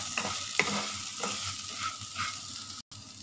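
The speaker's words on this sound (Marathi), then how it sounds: "फिरून घ्यायचं।" Vermicelli (shevaya) stirred in a hot pan: a continuous close sizzle with scraping strokes of the spoon against the metal, steady and fairly loud, with a brief dropout near the end.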